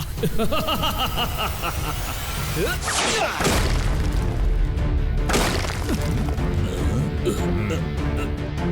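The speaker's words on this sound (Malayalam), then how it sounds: "അവിടെ എന്തോ ബ്ലാസ്റ്റ് ആയിട്ടുണ്ട്" Cartoon explosion blasts in a Malayalam Kicko & Super Speedo episode: two loud, broadband booming bursts, the first near the three-second mark and a second shortly after, cutting through a dense bed of music and effects.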